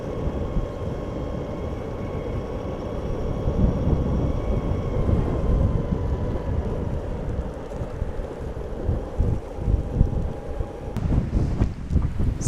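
Strong wind buffets the microphone outdoors, a loud continuous low rumble with gusts, plus a faint steady hum of an electric board or drone, ending in rougher bursts of buffeting.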